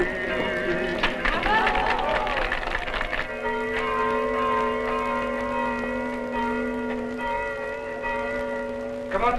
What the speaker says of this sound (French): Comment trouvez-vous mon carillon